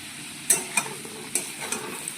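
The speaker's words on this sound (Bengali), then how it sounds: "আলুটা আমি ভেজে নেবো লাল করে" Potatoes fry in a pan with turmeric under a soft sizzle, punctuated by several sharp scraping clacks of a spatula stirring against the pan.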